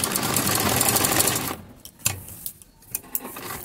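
A sewing machine stitches a zigzag fill on a puccha design, running fast and loud for about a second and a half before slowing into a few separate clicks and thumps.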